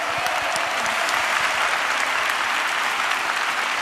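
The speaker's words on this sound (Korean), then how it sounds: "우리 다시 한번 큰 영광의 박수 올려드릴까요?" Congregation applause filling a worship and mission conference hall, a dense steady wash of many hands clapping at once, loud and continuous throughout with no talk over it.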